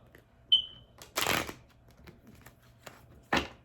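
Tarot cards are shuffled in a few short riffling bursts, one long and one brief, close and fairly loud in an otherwise quiet room, with a small clicking sound before them.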